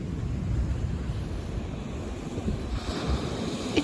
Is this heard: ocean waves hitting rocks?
yes